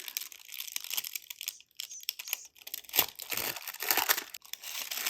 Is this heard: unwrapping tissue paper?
yes